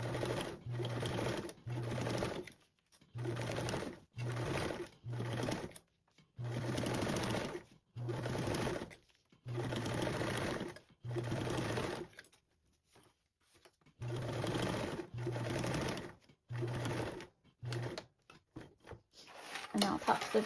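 A sewing machine top stitches a duffle bag with a 1/8 seam, running in repeated short and long bursts of steady mechanical whirring separated by brief pauses, close and clear.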